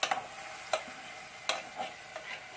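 A spoon scrapes and stirs nalleru chutney in a pan as it cooks, making several separate scraping strokes over a soft sizzle, close and fairly quiet.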